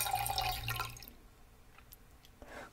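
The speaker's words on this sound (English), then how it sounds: "I could fill my flask with some of the milk punch." Liquid pours into a flask in the video game Inspector Waffles, a short gurgling trickle of water-like sound that cuts off abruptly, followed by faint drips and small clicks in near quiet.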